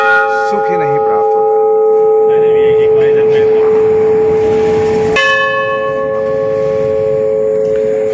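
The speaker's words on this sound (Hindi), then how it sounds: "मंदिर पहुँचे और मंदिर की घंटियाँ ना बजाएं तो वो" Temple bells ring at Banjari Mata temple in Chhindwara: a loud metallic clang sustains and rings out, then a second strike around midway renews the bright, lingering tone.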